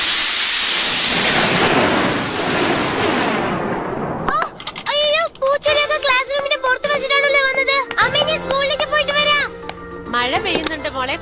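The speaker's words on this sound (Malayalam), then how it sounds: "മഴ പെയ്യുന്നുണ്ട്" Cartoon rain and thunder: a loud, dense roar of downpour with rumbling for about four seconds, then voices and music take over while faint rain lingers underneath.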